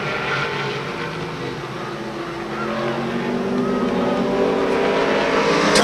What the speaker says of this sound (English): Car's a little squirrely out of turn four.